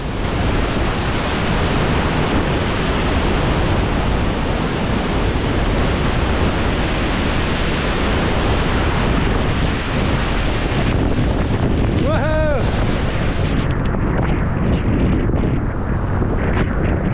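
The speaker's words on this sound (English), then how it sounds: "I don't know if you can tell from the video how strong the waterfall is" At Molinuco waterfall in Ecuador, heavy falling water roars in a dense, steady wash very close to the microphone, with wind buffeting mixed in. The roar stays constant throughout and no voices are heard.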